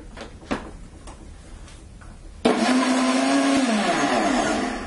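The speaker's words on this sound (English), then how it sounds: "If you have a puree option on your blender, make sure that's the one you use" A kitchen blender on its puree setting blends coconut with evaporated milk. It starts abruptly after a few quiet clicks and knocks, then runs as a loud, steady whirring roar with a slight drop in pitch as it churns.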